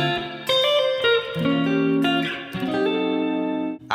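Clean electric guitar plays an RnB riff, a barred chord with a hammer-on on the second string, as a few plucked chords and ringing notes with no talking.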